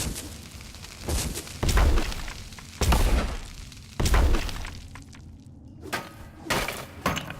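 Iron bombs blow up on a resource block in the game Boundless, a series of booming, shattering blasts, roughly three strong bursts followed by fainter pops, heard alone.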